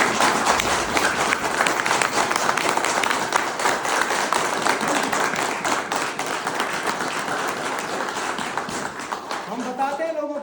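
Dense applause from a seminar audience, loud and continuous, with murmuring voices mixed in, thinning slightly toward the end.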